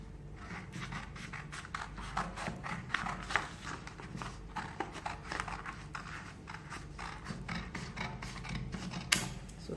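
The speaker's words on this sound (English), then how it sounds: "then I'll cut out the dart" Scissors cutting a dart out of a paper pattern for a bustier strapless tube top, a continuous close rasping and scraping of blades through paper with rapid uneven snips throughout.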